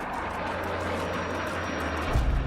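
Sukhoi Su-35 fighter jet with two Saturn AL-41F1S engines flying, a loud, steady broadband engine roar that swells near the end.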